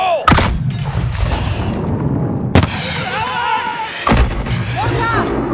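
A grenade blast in Call of Duty: Modern Warfare lands as a loud, close boom, one of several heavy thuds and bangs in a busy firefight, with voices calling out over the combat.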